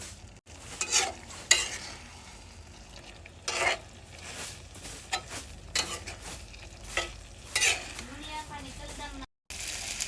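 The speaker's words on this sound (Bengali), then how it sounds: "এখন কলিজা হচ্ছে কষাবো" Chicken liver with ground spices, garlic and a splash of water sizzles softly in a pan while being stirred, with repeated scraping strokes of a spatula against the metal every second or so.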